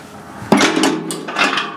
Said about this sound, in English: we're going to open the one door up for you to show you it's the same.